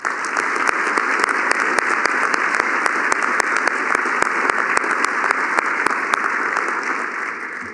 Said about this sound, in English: Would you join me in a round of applause for all of our private donors who supported the match and the vision for this facility?